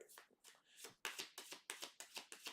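Tarot cards being shuffled by hand in a rapid series of about ten crisp riffling bursts, close and fairly loud, with no talking over them.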